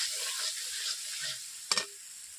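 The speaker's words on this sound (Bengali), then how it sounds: "এরপর আমি অল্প করে জল দিয়ে দিচ্ছি।" Fried masala for egg curry sizzles quietly in a pan. Late on, a sudden short hissing burst flares up as a little water goes in, then the sizzle settles back to a soft, steady hiss.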